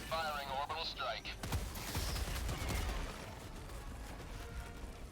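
An orbital strike in the video game Helldivers 2 lands as a loud cluster of rapid, booming blasts and crackling impacts, with a voice speaking over the barrage.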